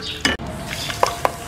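Cardamom seeds crackle in hot desi ghee, giving a soft steady sizzle with a few sharp pops and snaps scattered across a short stretch, with no talking.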